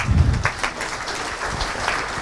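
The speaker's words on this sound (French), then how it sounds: "Merci, on peut les applaudir encore une fois." An audience at a presentation on tactical firefighting applauds, a dense patter of clapping with a few sharper claps that soon thins out.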